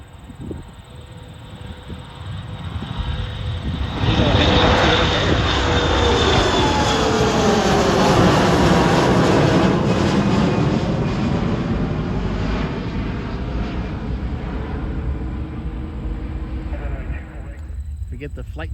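A Spirit airliner passes at Cleveland Hopkins airport, its loud, broad jet engine roar swelling and sweeping in pitch as it goes by, then slowly fading and lingering over roughly eighteen seconds.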